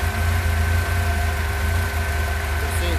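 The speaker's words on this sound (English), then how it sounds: "you'll hear the engine pick up and try and smooth out" A four-cylinder engine fitted with twin Weber/Dellorto DCOE/DHLA carburettors idles steadily up close, a low, even rhythmic thrum with a faint steady whine, no voices heard.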